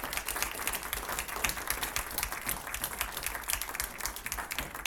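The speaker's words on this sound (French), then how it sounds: "On vous applaudit encore bien fort pour cet exposé." An audience applauding after a talk on solar storms, a dense, steady wash of many hands clapping at moderate distance, sustained throughout without voices.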